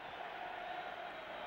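Football stadium crowd at the kick-off of England v Poland in 1973, a steady, distant roar of many voices filling the air.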